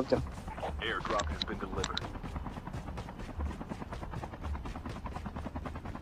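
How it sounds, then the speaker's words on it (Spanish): Helicopter approaching in a battle royale shooter game, a fast, steady rotor chop that keeps pulsing through the whole stretch, while players talk over it. "Viene un helicóptero."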